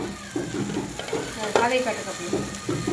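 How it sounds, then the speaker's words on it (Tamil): Ground masala paste sautéing and sizzling in a pan for goat head curry, with stirring scrapes and a soft frying hiss, close and moderately loud, with brief voice sounds mixed in. "அரைச்சதுக்கப்புறம் பாத்திரத்தில் ஊற்றிட்டு வணக்கி விட்டுக்கணும்"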